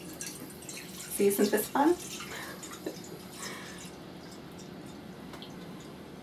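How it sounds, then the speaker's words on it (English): Tap water runs steadily into a bowl deep enough to submerge a pomegranate, a continuous soft hiss with a few drips while a person talks briefly over it. "And then you're just going to fill that with water."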